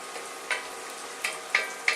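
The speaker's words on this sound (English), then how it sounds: "our bacon's cooking down nice here." Bacon sizzles in a soup pot as the base for corn chowder, a steady close frying hiss broken by four sharp spoon clinks and scrapes against the pot.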